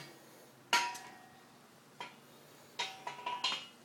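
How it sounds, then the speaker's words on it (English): Gunpowder being tapped down into the bottom of a homemade cannon barrel: a few sharp, light metallic taps and knocks, scattered and irregular, fairly faint against a quiet background. "Tap the powder down into the bottom."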